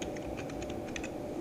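Quick, close clicking of keys on a computer keyboard as a command is typed into the Windows command prompt, a brief burst of keystrokes over a low background hum, with no talking.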